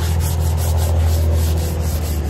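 Steady, loud rasp of hand sanding the edges of a raw hickory self bow, a continuous abrasive rubbing with a faint rhythmic pulse and no talking.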